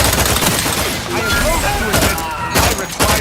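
Rapid gunfire from a gun in The Outer Worlds 2, loud bursts of shots and impacts layered with game sound effects, with people talking over the action.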